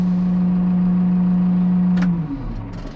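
Backhoe loader engine idling on a farm, a loud steady low hum for about two seconds before it drops and winds down into a rougher, quieter rumble.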